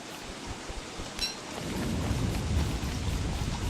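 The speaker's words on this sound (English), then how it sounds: "Oh, that sounds like thunder, which means lightning." A low rolling rumble of video game thunder from Don't Starve builds and swells under a steady hiss of falling rain, moderately loud and sustained after a quieter start.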